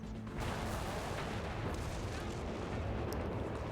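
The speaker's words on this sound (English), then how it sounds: "Ooh, cannon." Heavy cannon fire booms through a Company of Heroes 3 two-versus-two battle, a dense, loud wash of artillery and gunfire rumbling continuously with a sharp report near the end.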